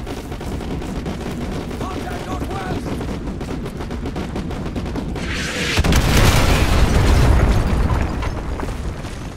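Heavy artillery blasts erupt in a Call of Duty MW2 firefight: steady gunfire crackles throughout, then a loud booming barrage of explosions swells and rumbles for several seconds.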